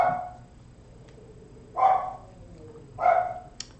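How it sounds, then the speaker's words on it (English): Two distinct dog barks, spaced about a second apart, over a quiet background, followed by a short faint click near the end. "Can you hear my dogs, darling? They want to be part of the party."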